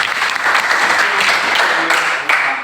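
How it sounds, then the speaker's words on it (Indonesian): Classroom group claps together in a loud, close, dense burst of applause that runs steadily for a couple of seconds before tapering. "Tepuk tangan buat."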